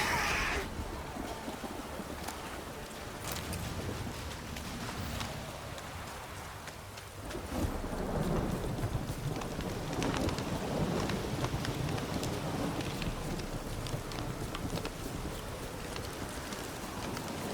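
Steady rain with thunder in the video game The Witcher 3, a continuous hiss of falling rain with a deeper rumbling swell midway, fairly loud and without talk throughout.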